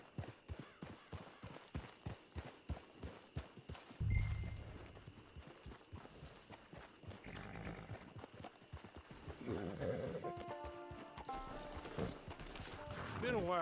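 Horse hooves walking in Red Dead Redemption Online, a steady clip-clop that slows and breaks up partway through as other game sounds and music rise, with speech over the hoofbeats.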